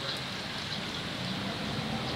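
Steady, even rain falls in a continuous soft hiss with no breaks, heard alone without voices, moderately quiet and close.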